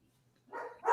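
A dog barks a couple of times in the second half, the bursts fairly loud and close after a near-silent start.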